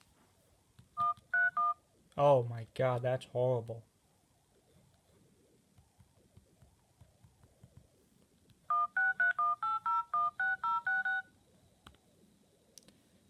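Keypad dialing tones from an iPhone 7 Plus clone phone come in two quick runs of short, evenly spaced beeps, with a man's brief spoken reaction between them.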